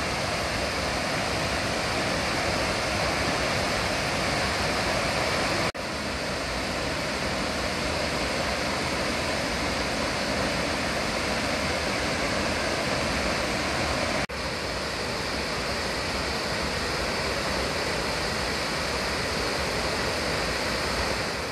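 Virgin Falls in Tennessee at high water, with the stream pouring out of a cave and under rocks, sends up a loud, constant roar of falling water that fills every moment without pause.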